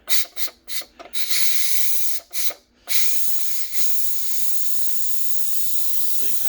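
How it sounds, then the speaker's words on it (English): Steam hisses steadily from a rice cooker's pressure release while sticky rice cooks, opening with several short bursts before settling into a continuous broad rush that runs to the end. "you'll get the steam coming up to release all the pressure"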